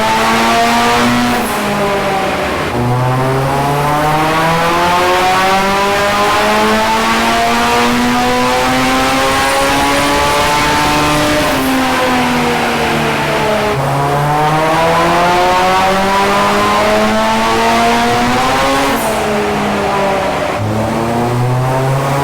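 A Ford Sierra XR4i with a turbocharged Honda S2000 engine swap runs hard on a rolling-road dyno indoors, screaming loudly through repeated rising rev pulls, each cut off by a sudden drop before climbing again.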